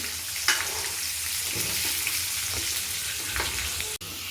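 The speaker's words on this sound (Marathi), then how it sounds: "वांगे मस्त तेलामध्ये खालीवर खालीवर करत राहायचे" Eggplant pieces fry in hot oil and are turned in the pan, a dense continuous sizzle with occasional soft scrapes of the spatula, close and loud, without talking.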